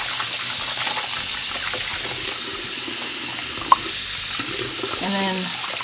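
Tap water gushes steadily into a sink filling for a kitten's bath, a loud, close, continuous rush with a few faint knocks and clinks near the end.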